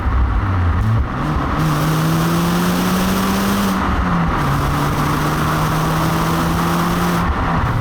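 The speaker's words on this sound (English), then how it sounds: "now we're back in national speed limit, let's put that little engine through its paces" Fiat Panda 100HP's small engine accelerating through the gears on an open road, revs climbing steadily in each gear with brief dips at the shifts, heard from inside the car with no talking.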